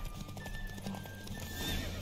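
Horse hooves clip-clop at a gallop beneath a horse's neigh in The Witcher 3 video game, a steady, fairly quiet rhythm with faint background noise.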